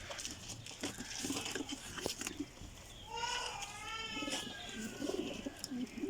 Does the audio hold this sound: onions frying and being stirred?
no